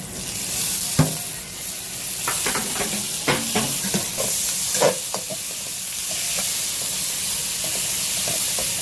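Tomatoes hit a pan of sautéing onions, garlic and ginger, setting off a steady close hiss of frying with scattered stirring clatters and spoon scrapes throughout, no talking.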